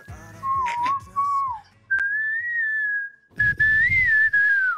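A person whistles the hook of a song, a clear, close solo tune in several short phrases with brief pauses, with faint background noise and a snap-like click.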